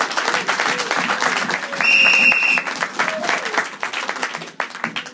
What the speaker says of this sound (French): tu applaudis fortement bien.